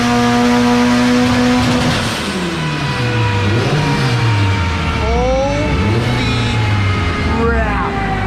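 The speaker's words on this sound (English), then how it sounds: "My little Miata is spinning on the dyno." A Mazda Miata roadster with an SR20 engine revs hard and loud on a dyno, its pitch sweeping up and down through several surges, with smaller whining tones above, close and continuous.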